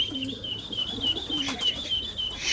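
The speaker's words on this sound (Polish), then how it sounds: "To są gołębie, które przyleciały z 360 km ponad." Racing pigeons just back from a 360 km flight coo softly at a rural loft, with low repeated coos and faint chirps over a quiet outdoor background.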